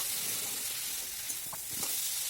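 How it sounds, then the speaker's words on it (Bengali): Spice paste cooks in oil with fried potatoes for a spicy mourola fish curry, a soft, even sizzle with a couple of faint stirring scrapes. "দিয়ে দিলাম এর মধ্যে ভেজে রাখা আলুগুলো। এবার আলুগুলো দিয়েও বেশ কিছুক্ষণ কষিয়ে নেব।"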